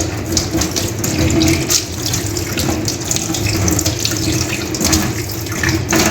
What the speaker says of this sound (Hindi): अभी धो के दिखाती हूँ, इसे यहाँ रख दो